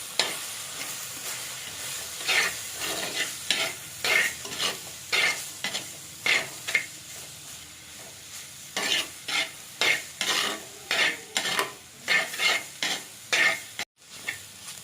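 A spoon scrapes and stirs rhythmically through peperomia (mashithandu) thoran with coconut frying in a pan, repeated close scraping strokes over a soft sizzle, with no voices.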